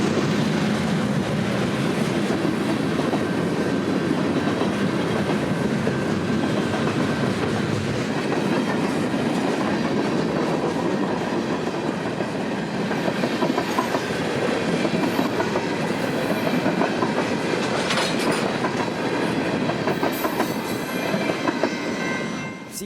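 A very long CN northbound manifest freight out of Chicago rolls steadily past nearby, a continuous loud rumble of railcars with clickety-clack of wheels over joints throughout, with no voices.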